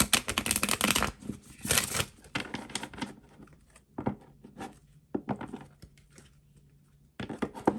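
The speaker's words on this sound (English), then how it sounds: "I'm gonna pull one more card here for advice." A Medicine Woman Tarot deck is shuffled by hand in a run of quick, papery riffles and soft flutters, close and steady, pausing briefly before resuming.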